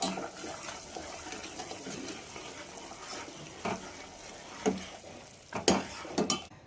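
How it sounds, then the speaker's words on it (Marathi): A spoon stirs warm sugar syrup with cardamom powder for sweet potato gulab jamun after the heat is off, giving soft liquid swishes and sharper scrapes against the pot near the end. "इथे मी अर्धा चमचा वेलची पावडर टाकली. आता हे मिक्स करून घ्यायची."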